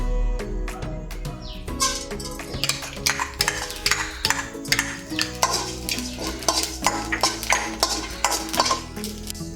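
Cumin seeds dry roasting in a pan are stirred and tossed, giving close, rapid rattling and scraping clicks in uneven bursts, with a faint sizzle underneath and no talking.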